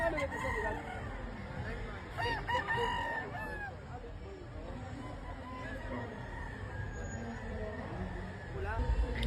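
Several gamefowl roosters crow at once at a gamefowl expo, overlapping calls rising above a murmuring crowd and chatter, with clucking hens nearby in a busy outdoor setting.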